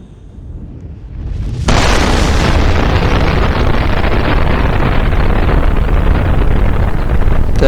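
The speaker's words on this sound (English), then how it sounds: "The explosion started happening" Core explosion in the Roblox game PBCC, a sudden loud roaring blast that erupts after a quiet rumble and keeps booming as a dense, sustained wall of noise with no talk.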